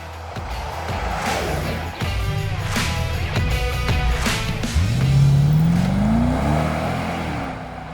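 A Mercedes G63 AMG drives past loudly with an engine roar and a rising whine as it accelerates near the end, while music plays alongside.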